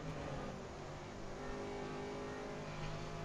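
A GT3 race car at Silverstone in a racing game, its engine droning steadily as it accelerates, a continuous loud broadband roar without distinct gear changes.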